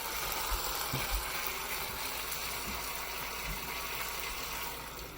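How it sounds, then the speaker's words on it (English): Water poured into a thickening chow mein sauce in a hot pan, a steady soft hiss and sizzle with faint bubbling, close and fairly quiet, no talk. "we're going to get a little bit of water in here"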